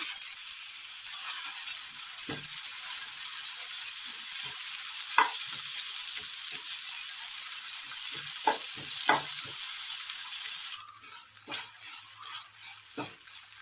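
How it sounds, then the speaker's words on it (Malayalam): Sliced onions sizzle in a pan for a Kerala-style egg roast, a steady close hiss broken by scattered clinks and scrapes of stirring, with the frying softening toward the end. "പാനിലേക്ക് സബോള ചേർത്ത് കൊടുക്കാം"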